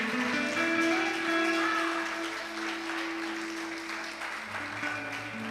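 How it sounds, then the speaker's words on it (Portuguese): A church congregation applauding, a sustained wash of many hands clapping at moderate loudness, with a held organ or keyboard tone running underneath and slowly tapering. "dê um aplauso ao Senhor se você está vivo"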